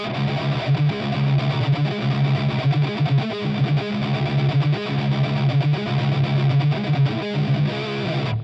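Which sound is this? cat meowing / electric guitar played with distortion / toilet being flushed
electric guitar played with distortion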